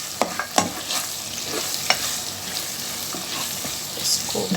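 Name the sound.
stirring chopped garlic and ginger frying in pan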